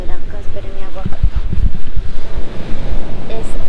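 Ocean surf rolls onto the beach at Cabo de la Vela, Colombia, a loud continuous wash of waves mixed with strong wind buffeting the microphone, with a voice speaking faintly underneath.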